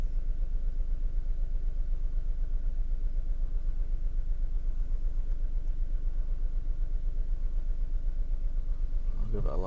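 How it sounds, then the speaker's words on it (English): A car engine idles with a misfire, a close, steady low rumble with rapid regular pulses that runs unbroken and ends in a brief louder burst of noise. "There we go, so we've got a misfire. So got a lot of pulses here, that's doing that."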